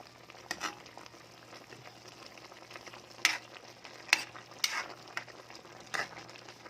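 A pot of ginataang papaya, papaya simmering in coconut milk, bubbles at a rolling boil, with a quiet bubbling bed and several sharper pops and splutters at irregular intervals.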